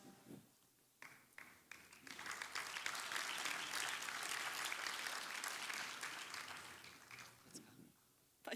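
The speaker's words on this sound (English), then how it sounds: "Another round of applause for Capit." Audience clapping at a student entrepreneurship event's opening ceremony and stage presentations: scattered claps build into loud, sustained applause for several seconds, then thin out, with some cheering and voices mixed in.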